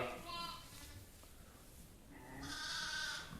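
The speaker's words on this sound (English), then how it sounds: "So it's very noisy inside, a lot of little lambs here" Young lambs bleating inside a sheep shed on a small farm, several close, wavering cries at the start and again at the end, with talking in between.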